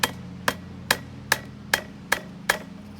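The butt of a hacksaw strikes something seven times in an even, steady rhythm, each knock sharp, close and loud over a low background hum.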